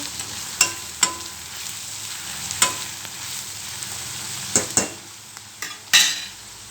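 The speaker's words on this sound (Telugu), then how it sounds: "ఇప్పుడు ఆనియన్స్ వేసుకోవాలి ఆనియన్స్ వేసుకొని కలుపుకోవాలండి" Onions fry in a pan after dried red chilies, a soft continuous sizzle broken by several sharp scrapes and knocks of a spoon stirring against the pan.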